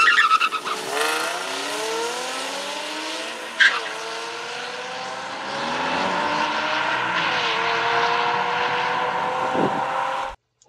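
Infiniti G35 coupe racing a Honda Civic, with steady loud engine roar, rising and falling gear tones and a brief tire skid, sustained for about ten seconds before cutting off.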